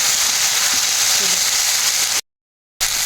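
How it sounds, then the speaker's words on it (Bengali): Mustard paste and green chilies sautéing for an ilish and taro curry, giving a steady close broadband sizzle and crackle that runs without a break and then cuts to silence briefly before resuming. "সরিষা আর কাঁচা লঙ্কা দিয়ে দেবো কিছুক্ষণ কষিয়ে নেব"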